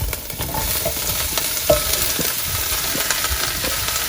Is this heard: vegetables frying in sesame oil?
yes